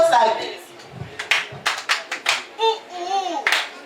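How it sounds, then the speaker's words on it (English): Children at a reading marathon session perform the Pasa Sayo hand-clap game: a string of sharp, close claps in an uneven rhythm, mixed with young voices chanting in a singsong. "We are going to learn a Pasa Sayo clap."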